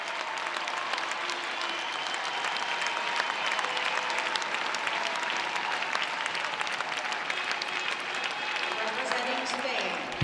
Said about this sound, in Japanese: 高橋は会場に湧き上がる拍手や歓声を遠ざけるよ